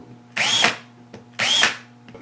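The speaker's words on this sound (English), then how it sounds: "So I'll go ahead and chamfer these holes on this side now" A power drill chamfers holes in a plastic rivet-set holder in two short, loud bursts about a second apart, each whirring up briefly and then stopping.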